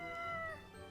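A single short, quiet meow from a cat in the pet game Kitty Luv, a brief tonal cry with no other sounds around it.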